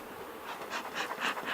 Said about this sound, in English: Now the bees are starting to hit me a little bit.